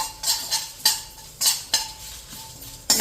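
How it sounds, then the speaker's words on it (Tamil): Sesame seeds roasting in a pan are stirred with a utensil, giving sharp scraping strokes at an uneven rhythm of about one every half second, close and clear with a faint sizzle between them. "இந்த பக்கம் பார்த்தீங்கன்னா எள்ளு நல்லா வறுபடுறது."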